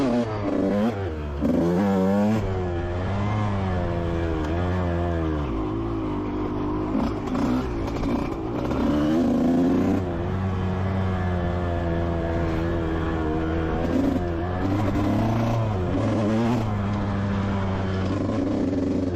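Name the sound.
motocross bike riding on dirt track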